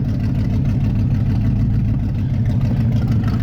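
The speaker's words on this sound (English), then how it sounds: "So you heard engine RPM drop when we reduce that guy" A Thunderhead289 Holley carburetor engine runs steadily as the idle screw is turned down, a loud, continuous low rumble with its speed easing slightly lower.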